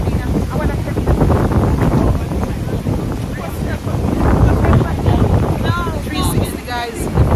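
Strong wind buffets the microphone outdoors on Aruba in steady, roaring gusts, with voices talking underneath and a few brief high sounds near the end.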